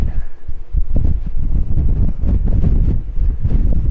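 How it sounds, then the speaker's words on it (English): Strong wind buffets the microphone at a coastal lighthouse on Anglesey, North Wales, a loud, continuous low rumble with gusting swells and no talk. "if you've got sensitive ears, do bring a bob hat, because this wind is incredible"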